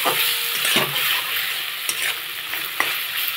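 Boiled potatoes coated in spices sautéing with a little water in a pan, a continuous close sizzle broken by a few sharp spatula scrapes and taps against the pan.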